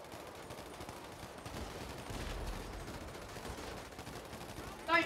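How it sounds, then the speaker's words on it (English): Gunfire in the video game GTA 5 during a heist, a fairly faint stretch of shots and rumbling under background noise, with a louder burst right at the end. "Oh no, I shot before I locked on."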